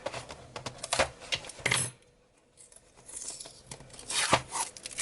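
Several quick snipping and rustling sounds, close by, as scissors cut through tape on an iPad Air box, with a short quiet pause midway before more cutting.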